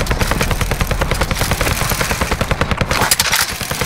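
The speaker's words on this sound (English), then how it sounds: "I can't hear shit because of these fucking planes" Aircraft roar overhead in the battle royale shooter Call of Duty: Warzone, a loud, rapidly pulsing drone that chops rhythmically throughout and sounds close.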